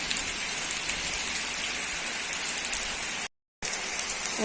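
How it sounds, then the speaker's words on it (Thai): Steady rain pours down outdoors, a dense, even hiss of drops falling on surfaces. It holds at a constant level with a brief gap of silence near the end and no voices. "สายฝนเย็นสบายแล้วพี่น้อง"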